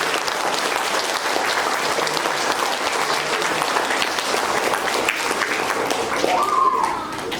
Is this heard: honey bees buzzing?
no